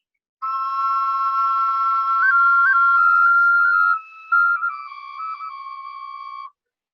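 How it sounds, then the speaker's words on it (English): Handmade wind whistles and an ocarina play clear, sustained whistling tones that step between pitches with small trills, alone and close up. "I've got a bunch of these instruments that I've made that I sell these little guys, wind whistles and ocarina."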